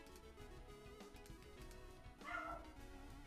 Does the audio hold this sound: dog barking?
yes